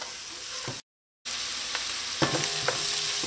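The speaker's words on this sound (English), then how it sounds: "Add your onions, your garlic, and hot pepper, and let this saute until it's nice and soft." Onions, garlic and hot pepper saute in a hot pot for Trinidadian coo coo, a loud, bright, continuous sizzle broken by a brief cut of silence, with a few stirring scrapes afterward.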